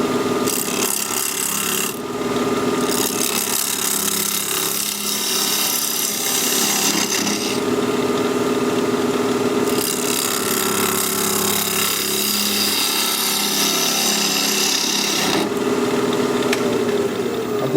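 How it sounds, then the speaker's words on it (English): Cherry live edge bowl spinning on a lathe at 2100 RPM, cut with a sharpened 1/2 inch standard grind bowl gouge, giving a steady, loud scraping and hissing wood cut with brief pauses and shifts in tone. "I've sharpened up my 1/2 inch standard grind bowl gouge. We're going to be turning at 2100 RPM."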